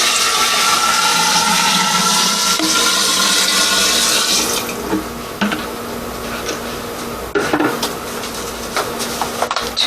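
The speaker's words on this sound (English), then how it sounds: "I'm going to put in 6 pints of water." Six pints of water gush steadily into a container for making wine with a loud, hissing splash, then the flow thins into lighter trickling and a few clicks and knocks.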